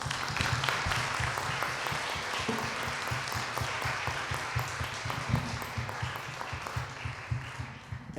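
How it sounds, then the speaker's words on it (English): A conference audience at a European Research Council information day gives a round of applause for the panelists, steady moderate clapping from a seated crowd that slowly thins toward the end, with no speech over it. "please let's give a warm round of applause for our panelists"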